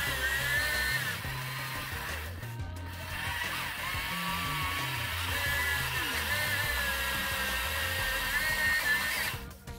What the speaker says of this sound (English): Gonna start the drilling process with a smaller bit.